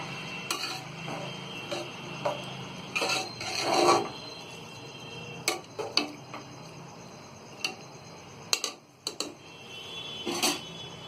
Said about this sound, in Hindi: चावलों को हम चला देंगे।